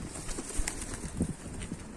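Pigeon cooing with brief wing flaps nearby during an outdoor pigeon-keeping session in Mardin, soft and intermittent over a low rumbling background.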